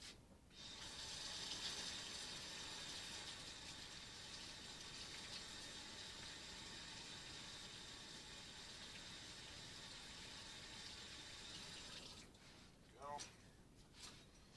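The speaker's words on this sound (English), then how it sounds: "Now, I'm going to wash my hands real quick again here." A steady hiss of tap water runs into a kitchen sink for hand washing for a long stretch, fairly faint, then cuts off with a few brief splashes and handling sounds.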